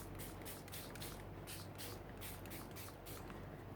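Soft, steady hiss of colored ink spray from a nozzle in repeated short bursts, close by and fairly quiet, with no voices.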